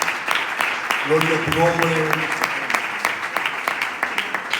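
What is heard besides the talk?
applause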